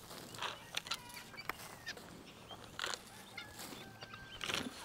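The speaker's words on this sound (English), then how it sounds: "Look at those guineas." Guinea fowl on a farm call in faint, scattered harsh clucks and squawks from some distance, a few brief bursts over a quiet background.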